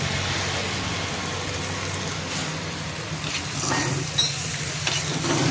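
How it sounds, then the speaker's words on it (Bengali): Fish heads fry in a pan while they are stirred, making a loud continuous sizzle with scraping stir noises that build a little near the end. No one speaks. "মা এখন নেড়ে নেবে, একটু পরিমাণ মতন নেড়ে নেবে"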